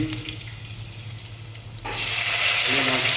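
Onion being stirred into egg curry (egg pulusu) in a hot pan gives a steady close sizzle that swells louder and brighter partway through, with soft scraping and no talking.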